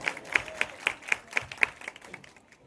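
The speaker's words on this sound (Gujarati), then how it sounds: "એવા જોરદાર તાળીઓ થઈ જાય" An audience at a Gujarati stage program gives applause: a light, fairly rhythmic run of distinct claps, moderately close, tapering off toward the end.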